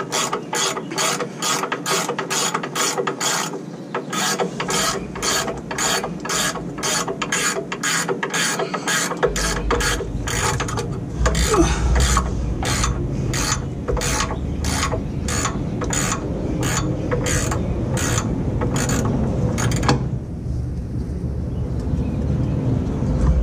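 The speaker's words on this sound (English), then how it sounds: "I can actually swing the wrench" Wrench being worked to tighten an alternator belt on a Toyota Crown, a loud, close, rapid ratcheting clicking in quick bursts that runs almost continuously before stopping near the end.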